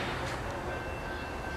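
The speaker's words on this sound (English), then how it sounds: "Here comes your train." A train rumbles past nearby, a dense steady roar of rolling wheels and rail noise filling the whole short stretch without any voices.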